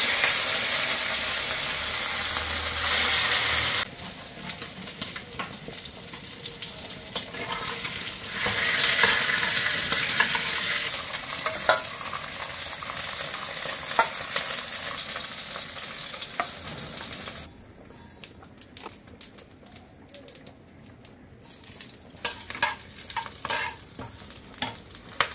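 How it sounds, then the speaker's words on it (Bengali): Fish sizzles and fries in hot mustard oil in a home kitchen, a loud continuous crackling hiss broken by stirring and scraping. The frying quiets to sparse pops toward the end, with no talking. "আমি এটা এখন ভাজা বসিয়ে দেবো।"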